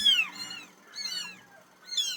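A small kitten meows three times in a row, high, thin and wavering cries spaced about a second apart, close and clear with no other sound.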